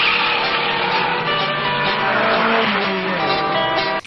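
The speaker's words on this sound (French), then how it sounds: "il va être obligé de faire une course contre une Fiero" Car race against a Pontiac Fiero in a 1985 film scene: loud, continuous engine roar with tire squeal and skidding throughout, no voices.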